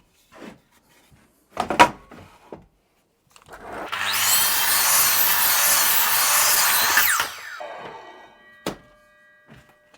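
Timber for roof construction is sawn through in one steady, loud cut lasting about three seconds, with scattered knocks and handling thumps of the wood before and after.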